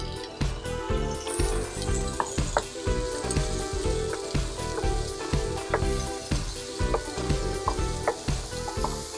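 Potatoes sizzle steadily in a pan for a Bengali jukti aloo bhaja, a dense, continuous frying hiss broken by frequent clinks and scrapes of stirring, close and loud with no talking.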